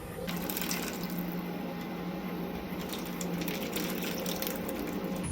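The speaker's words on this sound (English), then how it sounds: "we're going to dump half of the water because we don't want this to be too diluted" Water being poured out of a cooking pot at a state park campsite, a steady close splashing stream running without a break under faint outdoor ambience.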